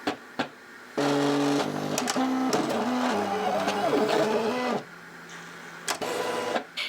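A Cricut cutting machine works through an infusible ink design, giving a series of buzzing, whirring motor passes with short pauses between them, each stepping in pitch as the carriage moves.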